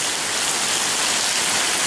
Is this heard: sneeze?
no